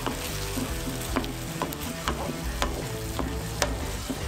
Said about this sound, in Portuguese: Agora vamos adicionar o alho.